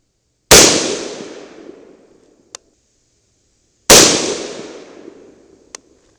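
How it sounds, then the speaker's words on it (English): Two loud rifle shots from a 300 BLK CMMG with an 8-inch barrel crack a few seconds apart outdoors, each with a long decaying echo and a faint small click afterward. "Let's go ahead and shoot a couple more, see if we can get a little 3-shot group going before we move the scope"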